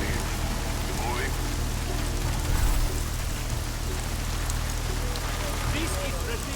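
Steady rain in the video game Deus Ex: Mankind Divided, a dense constant patter with a low rumble beneath, continuous throughout.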